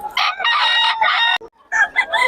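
Roosters crow loudly and close at a Bocaue market, two long strained crows followed by a brief break and another starting.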